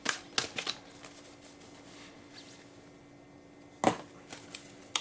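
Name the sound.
shuffling a fairy oracle card deck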